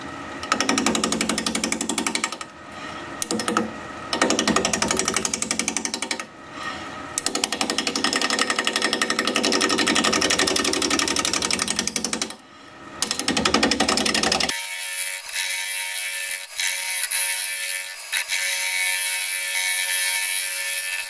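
A wood lathe spins a piece of driftwood at 700 RPM while a 5/8 inch bowl gouge cuts it. The loud, steady, chattering noise breaks off in a few short gaps, then shifts to a thinner hiss near the end.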